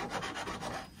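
A hand file rasps the edges of a freshly drilled hole in a wooden garden table, several quick scraping strokes close by and fairly quiet.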